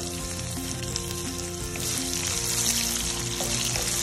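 Mustard seeds, fennel seeds, red chili, curry leaves and onion sizzling in hot oil for a Sri Lankan dhal curry tempering, a dense, loud, steady hiss that swells slightly halfway through, with no talking.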